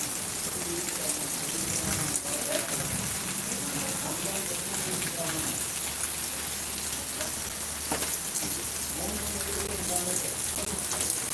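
Rain pours steadily in the evening in Pollachi, a constant broad wash of falling water and splashing drops, with voices speaking quietly beneath it.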